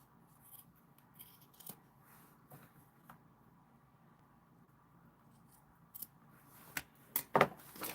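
Scissors snipping and trimming material in a quiet room, soft scattered cuts at first and then a quicker cluster of louder, crisp snips toward the end.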